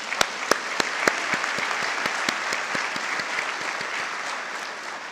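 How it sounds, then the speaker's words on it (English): A large crowd claps for graduates at an autumn university graduation ceremony, a continuous dense roar of applause punctuated by a few sharp, close individual claps standing out near the front. "Let's give them a round of applause."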